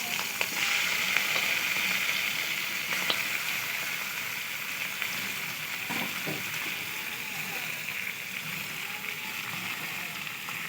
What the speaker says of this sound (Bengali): ওই তেলে এবারে চিংড়ি মাছটাকে দিয়ে দেবেন। চিংড়ি মাছটাকেও ভালোভাবে ভেজে নেবেন।